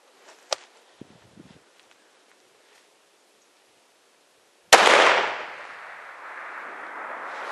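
A single sharp, loud rifle crack aimed at a bull elk in open Wyoming country, fired after several seconds of near silence and faint rustling, with a long rolling echo trailing away afterward.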